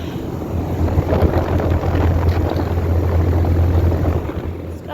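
A 2008 Trane XB13 3-ton central air conditioner, with an Alliance scroll compressor and Gentech fan motor and its top loose, runs just after startup: a steady, loud low hum and whooshing fan noise, close up and continuous.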